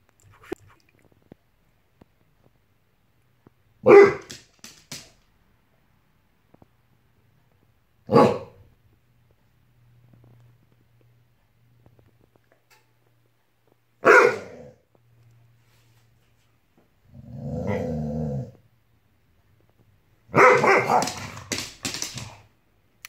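A dog barks in separate loud bursts several seconds apart, with a lower growling whine midway and a rapid flurry of barks near the end.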